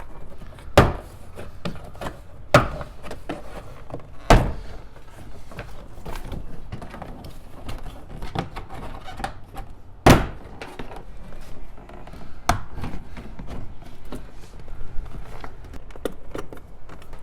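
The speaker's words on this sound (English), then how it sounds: "now start unsnapping the clips in the door panel up and around" Plastic clips pop free from a Toyota Tacoma front door panel, about six sharp, loud snaps spread irregularly over the stretch, with quiet handling noise between them.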